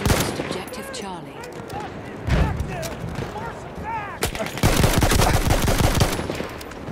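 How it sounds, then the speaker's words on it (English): Machine gun fire in Battlefield 1 crackles in rapid bursts amid battlefield noise. The loudest sustained burst comes late, and voices call out over the gunfire. "Machine gun right there!"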